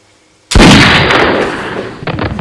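A single loud gunshot in a film, a sharp blast after brief quiet that decays into a long rumbling tail with a faint second crack near the end.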